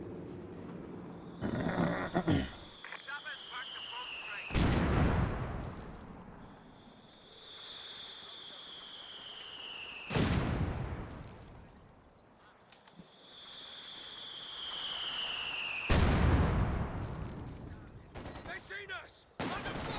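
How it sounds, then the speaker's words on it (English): MG42 machine gun fire rips out in several loud bursts during a Company of Heroes 2 battle, each burst followed by a lull with whistling shells and other combat noise, while a voice comments between bursts. "MG42 has pretty good burst there."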